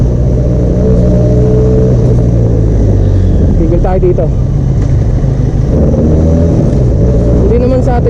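A Benelli Leoncino 500 motorcycle engine hums steadily while riding on the road, with loud wind rush throughout and a rider's voice talking over it.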